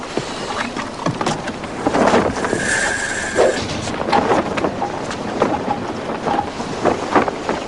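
Gusty wind buffets the microphone on a sailboat with rumbling roar and flapping, a few creaks and higher tones from the rigging.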